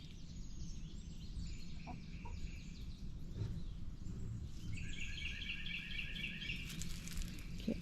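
Chickens cluck and chirp softly over a steady low rumble, with a few higher bird calls layered in toward the end; no talking.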